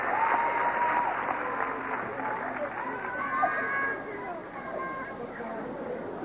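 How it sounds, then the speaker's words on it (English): An audience applauds after a women's gymnastics routine at a 1990 Canadian championship, steady clapping in a large hall while a commentator talks over it. "What a round of applause she gets for that routine."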